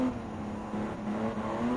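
Two Lamborghini Countach race cars chasing in Gran Turismo 7, a steady engine drone with a held tonal whine, moderately quiet and continuous with no talk.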